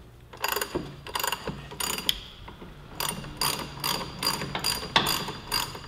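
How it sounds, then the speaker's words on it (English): A half-inch ratchet turning a 19 mm socket to loosen the front axle on a 2015-2017 Yamaha YZF-R3 clicks in quick bursts, with several ratcheting runs close up and short pauses between strokes. "We've got a 19 socket on that half inch ratchet."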